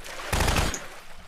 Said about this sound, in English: I hear gunshot.